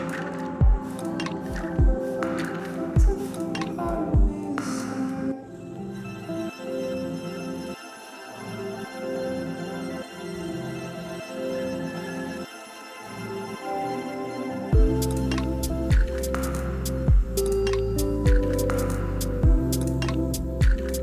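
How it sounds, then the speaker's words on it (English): A Real Techniques makeup sponge dabs foundation onto skin, making soft, wet squishing pats in a repeated irregular rhythm, close and fairly quiet, with a few louder bursts of dabbing toward the end. "I'm going to be applying the foundation with this Real Technique sponge"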